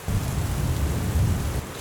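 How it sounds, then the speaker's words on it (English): Heavy rain pours down in a dense, steady wash with a deep low rumble underneath, loud and close, no voices. "Al, come in here and get out of the rain."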